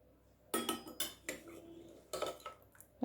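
Metal utensils and a curry pot clink as a potato and pointed gourd curry with fish head is taken off the heat, several short sharp clatters in bursts, close and alone.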